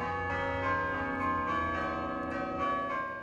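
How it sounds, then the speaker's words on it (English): Chimes ring from the Krause Bell Tower, with sustained, resonant bell tones layering over one another and swelling in a few close strikes. "Well, you've heard the bells,"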